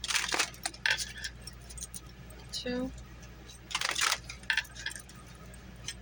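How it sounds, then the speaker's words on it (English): Tarot cards are shuffled in a few short riffling bursts, close and light, with a person counting aloud between them. "3 more shuffles, I'm being told."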